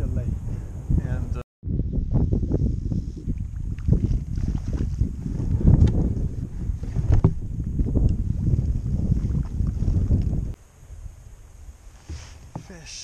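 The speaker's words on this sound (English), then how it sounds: "Extremely windy and too cold." Strong wind on a cold lake buffets the microphone during fall kayak fishing, a loud, continuous rumbling gust noise that drops away near the end, with a voice talking over it.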